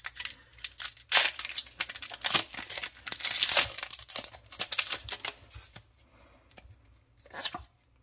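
A Pokémon Brilliant Stars booster pack being torn open and its cards handled, heard as close, crisp crinkling and tearing of the foil wrapper followed by sharper rustles and snaps that trail off into quieter handling.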